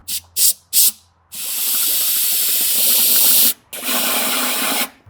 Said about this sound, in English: I'm just gonna spray some compressed air down there and see what happens.